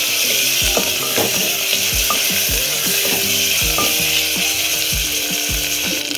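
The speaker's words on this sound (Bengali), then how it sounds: "এরপর আমরা এর মধ্যে কেটে নেওয়া টমেটো দেবো, দিয়ে আবার আমরা ভালো করে এটাকে কষিয়ে নেব।" Chopped tomatoes frying with onion and garlic for a chicken rajma curry, a loud continuous sizzle broken by repeated scraping, knocking stirs of a spatula in the pan, close and without voices.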